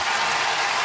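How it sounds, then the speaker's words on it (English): Arena crowd at an NHL hockey game between the Edmonton Oilers and San Jose Sharks gives a standing ovation to retiring Logan Couture, a dense, steady wash of clapping and cheering with no break. "round of applause for Couture"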